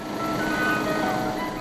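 An ice cream truck's familiar jingle rings out on a street in Sai Kung, Hong Kong, its tonal melody playing steadily over a constant hum of traffic and outdoor ambience, with no talk.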